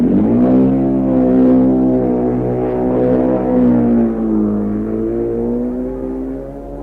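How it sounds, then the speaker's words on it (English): A BMW twin racing motorcycle at the Isle of Man races, its engine droning loud and near with a strong harmonic tone that rises slightly then sags as it holds speed, without pause for several seconds. "he made a magnificent start on his BMW twin"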